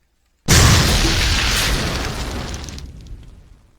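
A weapon blast in a video game goes off as a single loud, close explosion that starts abruptly, then fades into a long rumbling roar of debris and fire over a few seconds.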